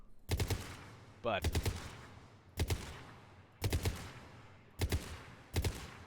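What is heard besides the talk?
gunfire from a powerful gun in Mass Effect 3 video game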